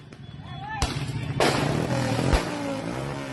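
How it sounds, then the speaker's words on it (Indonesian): Two or three sharp firecracker bangs crack out during a teenage street brawl, over a jumble of engine noise and commotion, with voices in the background. "melempar petasan hingga bom molotov"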